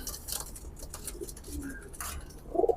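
Teddy pigeons give a few soft, low coos spaced across a quiet background, with a slightly louder coo near the end.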